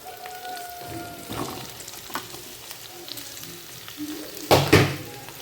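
Sliced onions hit hot oil in a pan for chicken perattu, setting off a steady sizzle and frying crackle with a couple of louder stirring scrapes near the end, no talking.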